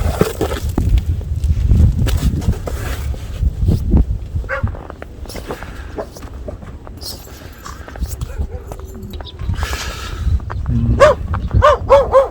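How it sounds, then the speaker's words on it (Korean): Dogs bark at an apiary of native Korean honeybees on a day of typhoon-strength gusts, several short barks sounding out over heavy wind rumble and outdoor noise. "우리 멍멍이들이 짖고 있네요."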